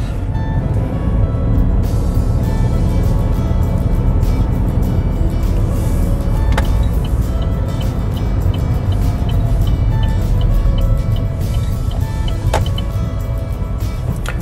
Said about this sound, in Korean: 요게 클러치 출발입니다.